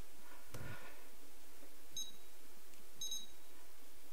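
A Futaba T8FG radio transmitter's flight timer gives two brief, faint electronic beeps about a second apart over a low steady hum in a quiet room.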